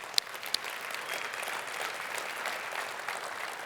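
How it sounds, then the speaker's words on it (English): Steady audience applause fills a keynote hall at a tech conference, a moderate, even wash of many hands clapping with a couple of sharper claps at the start and no voices over it. "Let's give a round of applause for our partners"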